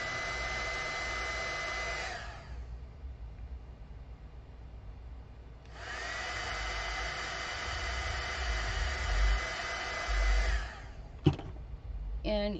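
A heat tool blows on a card to melt embossing powder, a steady close whoosh that runs for about two seconds, cuts out, then returns for several more seconds before ending in a brief knock.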